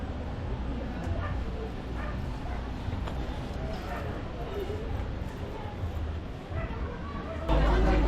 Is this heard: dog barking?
yes